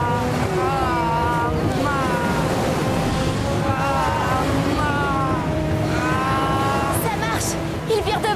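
Animated water surges and rushes as a ship is pushed through the sea in an Avatar cartoon, a loud continuous roar overlaid by excited characters shouting and calling out.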